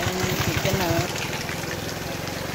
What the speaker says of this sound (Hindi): ये हो रही है बारिश